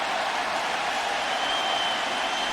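Stadium crowd cheering after Maurice Morris's 27-yard run in the 2008 Seahawks home game against the Eagles, a dense, steady roar from a distant mass of fans with no distinct voices on top.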